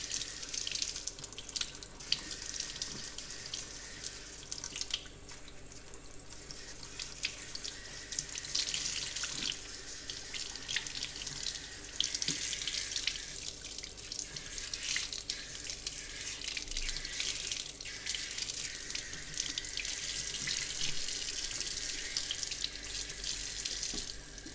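Tap water runs steadily into a salon sink during a hair wash, a continuous close splashing hiss with small shifts as the flow hits hair and basin.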